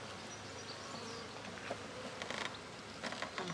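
A honeybee swarm settling into a new hive fills the air with a dense, continuous buzzing, close and steady, with scattered individual bees darting past and no voices.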